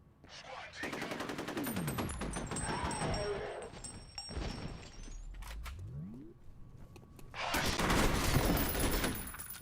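Heavy automatic gunfire in the horror shooter F.E.A.R., long sustained bursts of rapid shots up close with mechanical clanks between volleys, a brief lull, then another loud burst.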